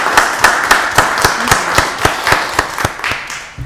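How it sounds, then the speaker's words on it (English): A single person's rhythmic handclaps at a county board of commissioners meeting, about ten close, loud claps at a steady pace over a room hum, with no talk. "let's give Commissioner Washington another round of applause."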